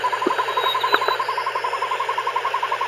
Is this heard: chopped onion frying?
no